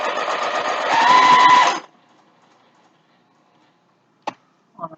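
Sewing machine stitching around the edge of a fabric face mask, a short whirring run of rapid needle strokes lasting under two seconds, followed by near silence and a few faint clicks and taps.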